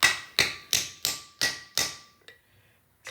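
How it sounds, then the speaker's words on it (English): Six sharp, evenly spaced hammer blows drive a wheel bearing seal home through a seal installer plate on a Ford Econoline E-150 front hub, each strike ringing briefly before decaying, followed by a faint tap. "just gonna smack her on there, and there we go. Popped right in there, no problem."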